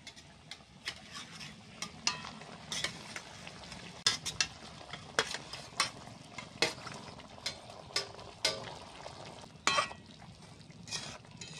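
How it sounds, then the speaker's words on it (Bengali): Pointed gourd goes into simmering, bubbling gravy for a stuffed spicy potol dish, with a soft steady sizzle and bubbling under regular light clinks and scrapes of a stirring utensil against the pan. "গ্রেভিটা ফুটে গেছে, এবার আমি পটলটা দিয়ে দিচ্ছি"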